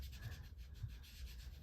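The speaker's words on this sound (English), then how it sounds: "So I'm just going to ink it up and rub some ink on here." Ink pad of Highland Heather ink rubbed back and forth across paper, a soft, continuous scratchy friction close to the mic, steady and fairly quiet with no talk.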